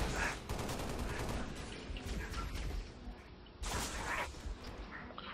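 Rapid automatic gunfire rattles almost without pause in Halo: Reach co-op campaign play, fairly close and steady, with a short dip before a renewed burst.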